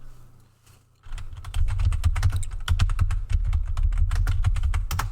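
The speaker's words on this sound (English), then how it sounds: "my keyboard is very loud compared with that" Fast, loud clattering keystrokes on a noisy computer keyboard start after a second of near silence and continue in a dense, uneven rhythm close to the microphone.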